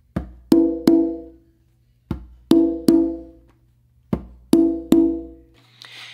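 A conga drum played by hand, a finger tap followed by two ringing open tones, the three-stroke figure repeated three times, close and clear with no talking.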